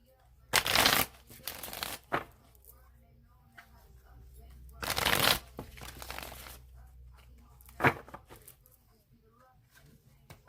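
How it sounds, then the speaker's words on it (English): Tarot cards being shuffled by hand, two loud riffling bursts and a few softer ones with quiet gaps between, close and clear with no talking. "I'm going to shuffle it 3 more times"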